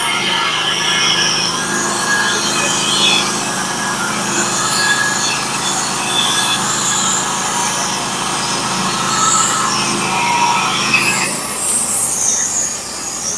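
A Norwood HD36v2 band sawmill cutting through a black oak log, with a loud continuous whining, screeching blade drone close by that holds steady and then drops off near the end of the cut.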